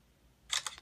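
A Samsung Galaxy Note 5 phone camera shutter fires once, a short crisp double click after a quiet pause, close and fairly soft.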